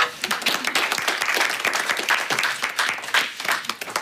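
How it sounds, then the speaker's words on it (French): An audience applauds to welcome guests, a lively burst of many hands clapping with sharp individual claps standing out, fairly close and sustained across the whole stretch. "on pourrait déjà commencer par les applaudir"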